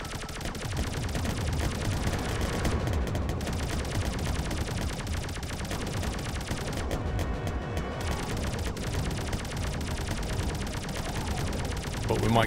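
Enemy gunfire in the space game Rodina, a continuous rapid barrage of shots and blasts that stays loud and dense, with only a few short lulls along the way.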